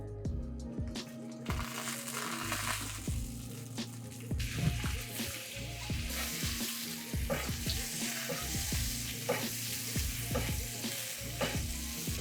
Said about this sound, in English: I am gonna dry the exterior right now so that we can get a nicer sear on here